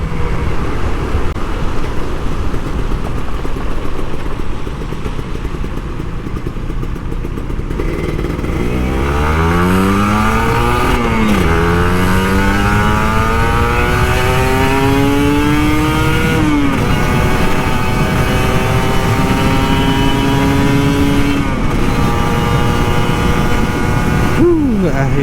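An old Kawasaki Ninja RR 150 two-stroke motorcycle, ridden home from the office in the rain, idles and then revs hard several times, its engine note rising and falling loudly at close range.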